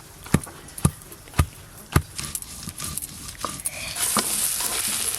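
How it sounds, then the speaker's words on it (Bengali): Giant freshwater prawns frying together in hot oil: sharp spattering pops at first, then the sizzle swells into a steady hiss, close to the pan. "এই মাছগুলো এবার সবগুলো একসঙ্গে ভেজে নেব।"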